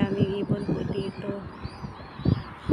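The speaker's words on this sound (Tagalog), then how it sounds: "Ang daming ibon po dito." Many birds call outdoors on a sunny summer walk in Tornio, Finland, with faint chirps and coos under a person talking nearby.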